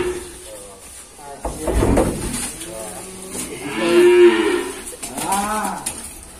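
Limousin cattle at a cattle dealer's pen give several loud, drawn-out moos close by, with clattering pen noises and people talking in between.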